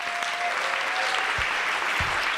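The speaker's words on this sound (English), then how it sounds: "Worth the applause." Audience applause fills a hall during a Triangle Fire remembrance gathering, a dense, steady wash of many hands clapping at once with no break for just over two seconds.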